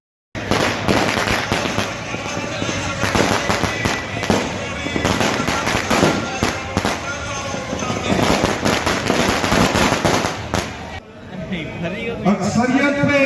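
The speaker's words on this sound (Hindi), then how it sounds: "शानदार आतिशबाजी का मुजाहरा किया गया" Fireworks and firecrackers crackle and pop nonstop at an outdoor election campaign rally, a dense, loud barrage of rapid bangs that keeps going with crowd noise beneath.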